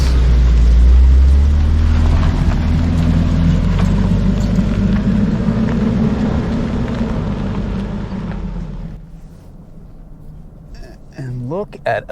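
A 2023 Lexus LX 600 Ultra Luxury on 22-inch wheels and street tires labors up a steep off-road hill, its engine a loud, steady low rumble that eases off near the end, with brief knocks and scrapes.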